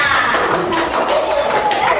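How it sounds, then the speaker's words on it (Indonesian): A second-grade class claps together for the student groups in a math lesson, a dense, steady patter of many small hands that stays loud throughout, with some children's voices mixed in. "Yuk beri tepuk tangan untuk kelompok Bintang, Pelangi, dan Awan."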